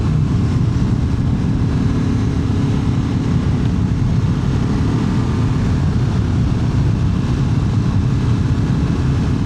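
A Ducati Multistrada V4 RS V4 engine drones loudly and steadily while the motorcycle is ridden at speed, a dense low rumble mixed with wind roar and no clear gear-change breaks.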